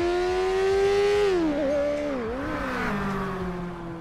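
A McLaren sports car in GTA 5 passes underneath with a loud engine drone whose pitch sags and bends as it goes by, then settles into a lower, fading hum, with no voices.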